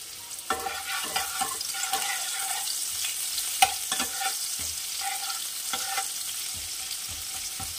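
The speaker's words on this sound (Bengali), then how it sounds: "যে তেলে মাছ ভেজেছি সেই তেলে দিয়ে দেব হাফ পেঁয়াজ" Half an onion is fried in the oil left from frying fish, a steady close sizzle punctuated by repeated spatula scrapes and stirs against the pan, with no talk.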